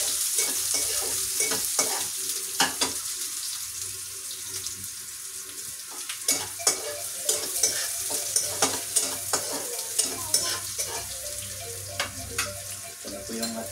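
Chopped onion going into a pan for ginisang ampalaya (bitter melon sautéed with egg), with steady sizzling and repeated scraping stirs across the clip, the stirring growing more frequent in the second half.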